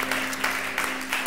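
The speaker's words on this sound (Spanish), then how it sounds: "Denle un aplauso al Señor" Church congregation applauding during a Sunday service, a dense, continuous wash of clapping with a steady low hum beneath it, heard briefly.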